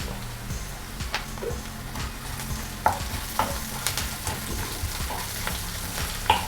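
Onions, green chillies, ginger and spices sizzle in hot oil for tomato poha upma, with a steady frying hiss and intermittent scrapes and clinks of stirring.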